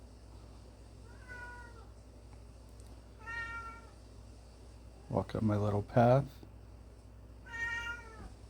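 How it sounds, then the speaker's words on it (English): A house cat meows repeatedly in the background, four or five drawn-out, plaintive cries spaced a second or two apart, with a louder pair near the middle, while a person talks softly over a low steady hum. "a cat in the background if you hear her"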